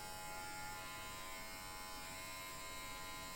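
A VGR electric hair clipper runs with a steady, even mechanical buzz, fairly faint and unchanging for a few seconds, with no voices.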